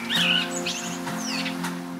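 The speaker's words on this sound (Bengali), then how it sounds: "ওই তো একটা পাখি এদিকে আসছে" A cartoon bird chirps and tweets in quick, bright bursts, with a steady musical background bed playing underneath throughout.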